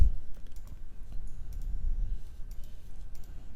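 Keys on a computer keyboard clatter in a quick run of clicks while numbers are entered into an Excel spreadsheet, close and moderately loud over a low room hum.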